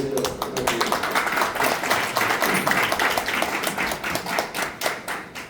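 Audience applause at a business forum lecture in Korea, a dense, steady burst of many hands clapping that holds for several seconds before tapering off at the end.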